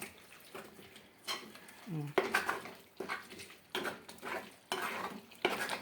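A metal spoon scrapes and stirs against the bottom of a pot of rendering pork lard in repeated bursts, close by, with a brief voice in between.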